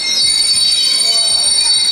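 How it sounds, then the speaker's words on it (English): A cargo train pulls into a Lao-China Railway station, its wheels squealing loudly and steadily throughout with a continuous metallic rail hum. "A cargo train just pulled in,"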